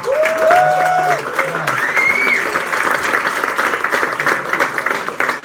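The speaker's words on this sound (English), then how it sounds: "Give yourselves a big round of applause for being here." Applause from the crowd at a Blockchain Association event, dense clapping mixed with a couple of whistles and cheers early on, then thinning to scattered claps by the close.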